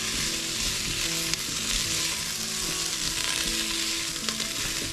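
Chicken stew ingredients with a stock cube sizzle and fry steadily in a pot, a loud continuous crackle close up with no talk.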